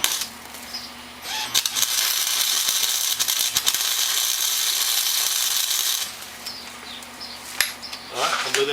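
Metallic ratcheting and clinking while a wrench tightens an LED headlight mount on a Honda Fourtrax 300 ATV, a steady clicking stretch followed by scattered clanks and light handling noises.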